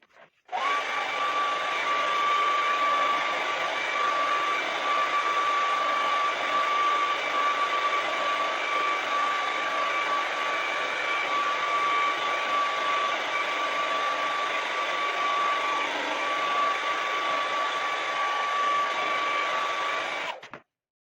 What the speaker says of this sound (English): So I will be back with mine blow drying in like a second.